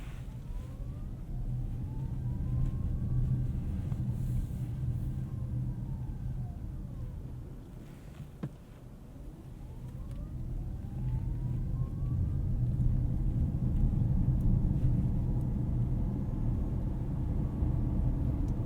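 A 2021 Toyota Corolla Hybrid cruises at night in eco mode, giving a steady low road rumble and hum with a faint whine rising and falling, smooth and continuous throughout.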